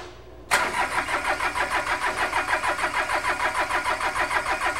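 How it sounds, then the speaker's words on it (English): A small engine cranks over without its glow plug cycled, kicking in abruptly after a quiet moment and then turning over steadily with a fast, even rhythmic pulsing and no catch or start, close and loud. "This engine should be cranking fast enough."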